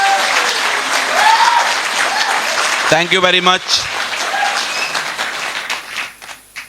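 An audience at a motivational business seminar applauds loudly and steadily for several seconds, with someone speaking briefly over the clapping.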